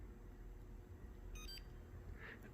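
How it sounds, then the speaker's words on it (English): An SPC Mevo camera gives a soft power-on beep: a brief cluster of thin, faint tones midway through, barely above a low, steady background hum in a quiet room. "It's a very mild beep."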